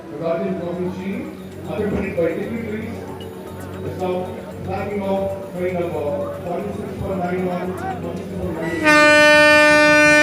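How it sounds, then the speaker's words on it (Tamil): Express train departing a flag-off ceremony at Tambaram station for an unreserved Tambaram–Tirunelveli service, with a loud horn blast in the final second over steady crowd noise and people talking throughout. "மத்திய இணையமைச்சர்கள் பங்கேற்று கொடியசைத்து தற்போது அந்த ரயில் சேவையை தொடங்கி வைக்கிறார்கள்."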